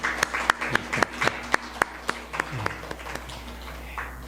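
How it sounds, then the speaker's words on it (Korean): A church congregation claps in welcome during a Sunday worship service, a modest, uneven round of applause with distinct individual claps over a low hum, fading out toward the end. "다 같이 환영의 박수를 하겠습니다."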